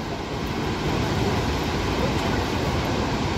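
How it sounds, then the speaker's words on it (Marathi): Water from a small waterfall near Thoseghar falls rushes and babbles in a continuous, even broadband roar, close and steady, with no voices. "कसा खळखळ आवाज येतोय बघा."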